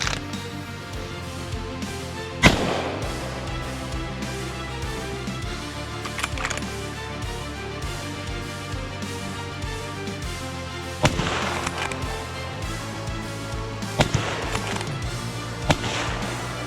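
Rifle shots ring out during a driven wild boar hunt in France, several sharp reports scattered across the stretch over a constant backdrop of wind and movement noise, with no talking.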